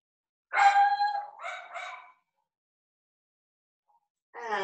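Dogs barking indoors early in the morning: a loud cluster of two or three harmonic barks, then a pause, with another bark starting at the very end.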